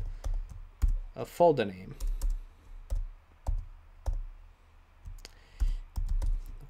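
Clicky computer keys are tapped in short irregular bursts while a git clone command is entered, fairly quiet and close, with a voice talking briefly partway through.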